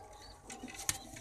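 Soft, brief cooing from a rain-wet pigeon in its indoor coop, faint and low against quiet background noise with a slightly stronger note near the end.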